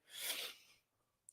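One close, sharp sneeze from a person, a burst of breathy noise lasting under a second, followed by quiet and a faint tail.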